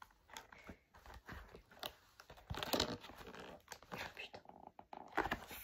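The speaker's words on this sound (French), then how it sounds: "je suis en train de déchirer la boîte." A cardboard box is torn open close by in a series of rough ripping and crinkling bursts, irregular and fairly loud against a quiet room.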